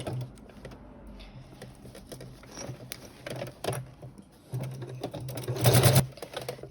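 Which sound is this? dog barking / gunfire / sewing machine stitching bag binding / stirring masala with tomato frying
sewing machine stitching bag binding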